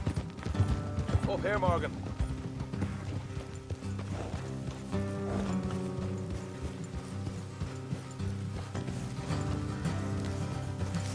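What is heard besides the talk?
horses galloping with hoof clip-clop in Red Dead video game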